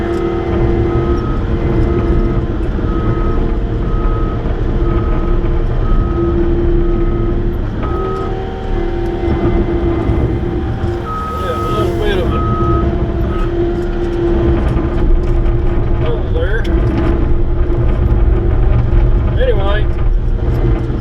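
A skid steer and a packer run steadily together while grading in Vermont, a continuous engine drone with tonal whine and intermittent beeping, close and loud, with occasional voices over it.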